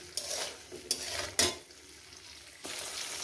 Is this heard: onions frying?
yes